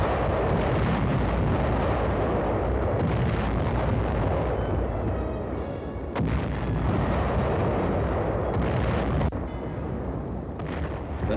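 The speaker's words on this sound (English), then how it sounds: "our artillery pounded and repounded the enemy defenses guarding San Pietro" Sustained WWII artillery barrage pounding enemy defenses around San Pietro, a dense continuous roar of heavy booms and rumbling blasts over about eleven seconds, loud throughout with brief dips between salvos, no voices.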